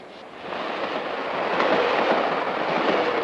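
In a 1952 film scene, a passenger train bound from Chicago rolls along the rails with a steady, loud rumble and faint rhythmic clatter that grows slightly over a few seconds.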